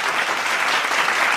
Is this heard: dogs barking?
no